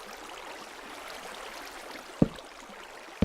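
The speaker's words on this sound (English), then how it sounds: "Nice, peaceful Minecraft water sounds." Gentle, steady flowing water from a Minecraft game world, a soft continuous stream-like wash held at low level, broken by two brief sharp clicks near the end.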